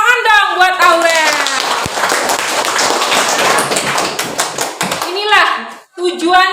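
Schoolchildren in a classroom clap for a classmate, a burst of many hands tapping together between bursts of children's voices, close and loud.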